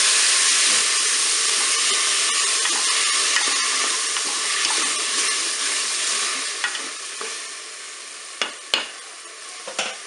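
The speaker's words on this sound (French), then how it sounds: "Je vais rajouter mes légumes. Je vais mélanger." Vegetables being stirred in a Cookeo multicooker for a vegetarian meatball couscous: a steady, loud sizzle and hiss of frying with scraping stirs, and a few sharp utensil knocks near the end.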